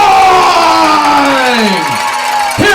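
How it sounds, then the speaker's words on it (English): A crowd roars at a high school varsity football game between Willow Spring and Clay on senior night, with a loud, sustained wall of cheering and scattered whoops throughout. "Ladies and gentlemen, please rise to your feet. Stand up, cheer"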